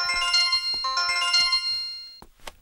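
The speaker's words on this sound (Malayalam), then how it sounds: "നിന്റെ ഫോൺ." A mobile phone ringtone plays a bright, repeating electronic melody in a home kitchen scene from a Malayalam film. It is loud and close, in several phrases over about two seconds, then stops, followed by a brief low thump.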